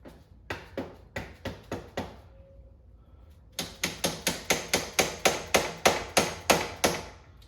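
A Can-Am vintage motocross fork clamped in a vise is struck hard: five sharp metallic blows, a short pause, then a rapid run of about a dozen evenly spaced, loud, ringing hits close by.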